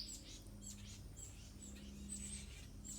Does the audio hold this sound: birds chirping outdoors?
yes